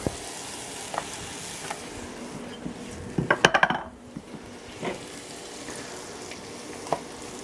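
Leftover onions hit a hot frying pan with a soft, steady sizzle, while cookware clatters and clinks in a short burst near the middle.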